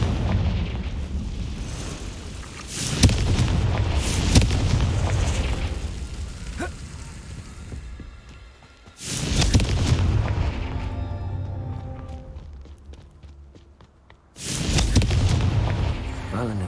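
Three heavy booming blasts from Confringo fire spells in Hogwarts Legacy, each a loud broadband burst that rumbles and decays for several seconds, separated by quieter game ambience.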